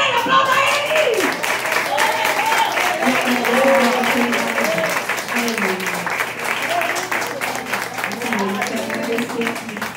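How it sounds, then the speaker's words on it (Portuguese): A church congregation applauds with steady, dense clapping for the full stretch, while voices speak and call out over it. "Aplauda Ele, aplauda Ele."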